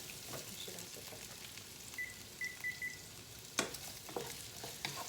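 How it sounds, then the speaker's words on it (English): Onions sautéing in a pan, a soft steady sizzle and frying hiss running throughout with a few light stirring clicks and a brief scrape near the middle, no voices. "And I'm just going to saute those. For about 3 minutes."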